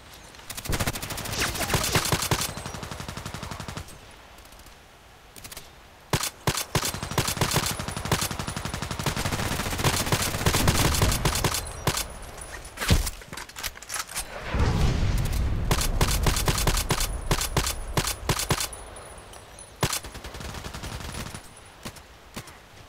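Video game gunfire in a match on the Old Sawmill map: rapid automatic bursts and single shots crack loudly in clusters, with short lulls between volleys and some booming reports.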